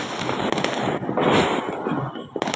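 Diwali firecrackers bursting in a dense, continuous crackle, loud and close, with sharp pops standing out through the barrage and a brief lull near the end.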